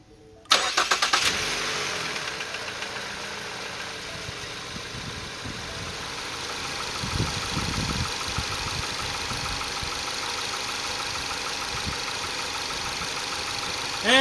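A 2016 Ford Fusion engine cranks and catches with a short burst, then settles into a steady, even idle close by for the rest of the stretch.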